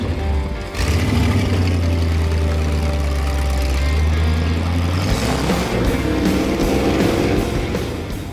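A custom off-road rig with a mismatched mix of parts, an odd exhaust and a roll cage idles outdoors. Its engine gives a loud, steady low rumble that stays close and continuous, then shifts into rougher revving toward the end.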